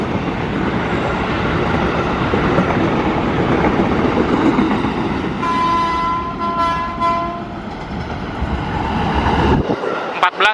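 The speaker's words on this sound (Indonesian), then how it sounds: "Ada KRL 20544 Bogor." A KRL commuter train bound for Bogor passes, with a loud, continuous rolling roar, a brief horn toot midway and speech over it.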